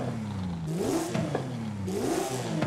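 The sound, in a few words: car engine revving with upgraded intake in video game Forza Horizon 5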